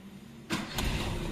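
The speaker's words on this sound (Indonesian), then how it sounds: "Sekarang kita coba hidupkan." A 1995 Toyota Kijang Grand Extra starts: a quiet idle background gives way to a sudden burst of starter and engine firing, settling into a loud, close running engine.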